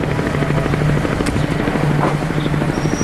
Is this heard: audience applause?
no